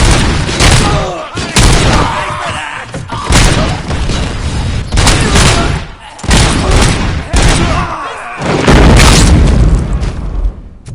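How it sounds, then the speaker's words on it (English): Grenade blasts and gunfire in the shooter game RoboCop: Rogue City, with repeated heavy booms and bursts of shots crowding a loud, chaotic firefight, while voices shout over the combat. "Throwing grenades!"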